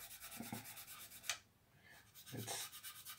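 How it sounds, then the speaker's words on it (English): Faint, rhythmic scratchy rubbing of a fine sanding stick against model plastic on a Mitsubishi Zero kit, quick back-and-forth strokes repeating steadily, close and quiet. "And now the fine sanding stick to finish the job"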